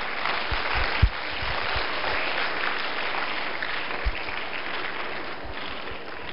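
An audience at a Guru Puja gathering at Patanjali Yogpeeth in Haridwar breaks into loud, dense applause, a continuous wash of many hands clapping together with no pause, steady and full throughout.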